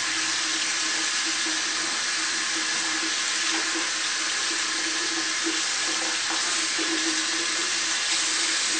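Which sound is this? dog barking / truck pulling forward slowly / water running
water running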